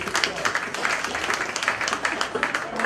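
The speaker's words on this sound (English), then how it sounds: "was that a round of applause" Audience applause at a live comedy mind-reading show, steady dense clapping from a crowd throughout, fairly loud with no clear pauses.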